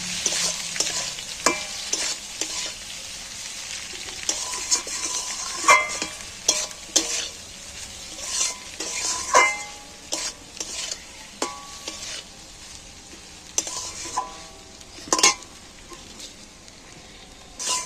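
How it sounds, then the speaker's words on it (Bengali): Egg fry sprinkled with chili powder sizzling in a pan while a spatula stirs it, a steady close frying hiss broken by irregular sharp scrapes and clinks against the metal. "এইবার আমি একই সাথে একটু নাড়াচাড়া করে ভেজে নেব।"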